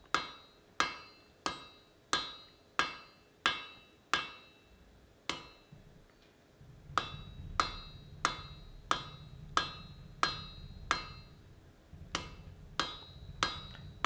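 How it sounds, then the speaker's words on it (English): Hammer forging an upset into a blunt taper on hot iron, sharp ringing blows struck in an even steady rhythm, about twenty strikes close by, with a low rumbling noise joining partway through. "This upset is then also forged into a blunt taper"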